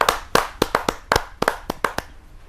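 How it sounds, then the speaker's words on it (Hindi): Separate, sharp hand claps from a small audience at a Hindi poetry gathering welcoming a poet, about a dozen distinct close claps in an uneven rhythm, loud and clear with nothing else audible. "मैं जोरदार तालियों के साथ नलिनी राज को आमंत्रित करता हूँ"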